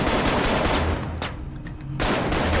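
Rapid bursts of fire from an upgraded gun in the VR shooter Arktika.1, loud continuous shots that break off briefly and then resume.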